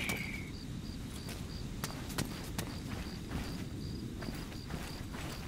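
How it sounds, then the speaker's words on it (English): Sparse, faint footsteps in Arma 3, a handful of soft irregular steps over a steady outdoor hiss with a thin insect-like tone, no talking. "Thought I heard footsteps."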